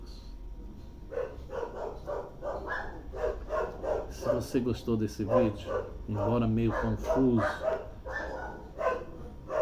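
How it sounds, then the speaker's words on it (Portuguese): A pet dog barks and yips now and then beneath a person talking steadily, the barks partly masked by the voice. "meu cachorro está participando"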